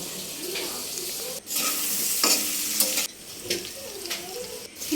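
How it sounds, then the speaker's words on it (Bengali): Fish frying in hot oil in a home kitchen: loud close sizzling and crackling with bursts of spatula stirring and scraping that rise and fall in short waves, no talking. "মাছ মাছ লাল লাল করে ভাজা হয়ে গেলে তুলে নেব"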